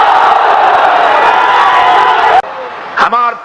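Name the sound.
crowd chanting in response to Naraye Takbir slogan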